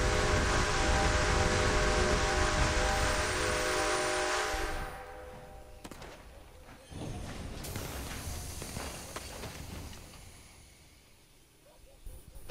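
Steam train whistle in the video game Red Dead Online, a long loud hissing blast with harmonic tones that cuts off, followed by quieter steam and rail noise.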